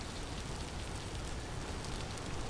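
Steady rain pours in the survival game Vintage Story, a dense continuous hiss of drops with no pauses, fairly loud and even throughout with no voices.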